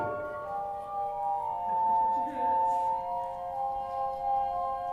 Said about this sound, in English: Let the deep tones of the glass harmonica wash through you.